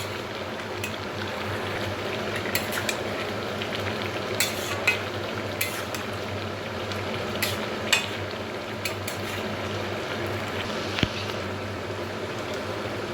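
A mixed-vegetable chorchori that is nearly cooked sizzles steadily in a pan, a close, soft frying hiss broken by occasional light clinks and scrapes of stirring.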